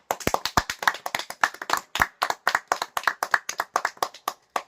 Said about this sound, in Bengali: সবাই মিলে একবার হাততালি মেরে